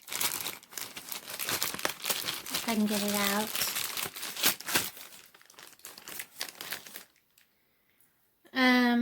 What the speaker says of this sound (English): I can't get the plastic bag open.